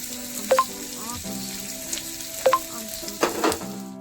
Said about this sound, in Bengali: এবার আমি এর মধ্যে পেঁয়াজ দেবো।